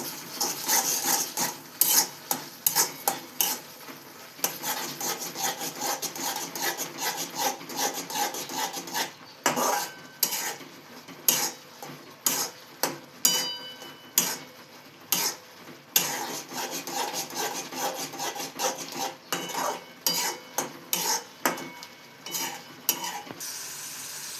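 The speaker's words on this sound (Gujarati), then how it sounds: "હવે તેને બરાબર હલાવી લઈશું." A spoon scrapes repeatedly through carrot halwa with cardamom in a pan, giving a long run of rhythmic rasping strokes with short pauses between them, close and fairly quiet.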